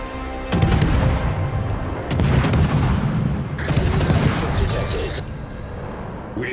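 Warship artillery fire in World of Warships during a Tier 10 HMS Druid destroyer match: repeated heavy booming salvos at irregular intervals over dense, continuous game noise, with voice callouts mixed in.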